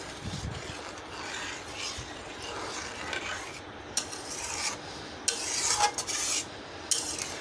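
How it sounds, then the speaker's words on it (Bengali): Mashkalai lentil dal being stirred in a pot, a steady close scraping and rubbing with a few sharper spoon strokes against the pot, continuing throughout with no talk. "আর ডাল দেওয়ার পর কিন্তু সাথে সাথে নাড়তে হবে, না হলে হাঁড়ির নিচে লেগে যাবে।"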